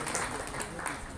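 An audience at a Puskesmas Jabon health centre event in Sidoarjo claps in welcome: a brief, steady wash of applause that blends into the room's background noise.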